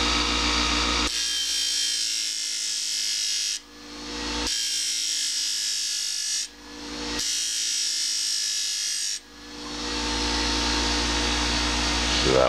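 A homemade grinder and disc sander built from ratchets runs with a loud, steady high whine and low rumble, pressed against a workpiece three times, each contact bringing a harsher grinding tone and a brief dip as it lifts off.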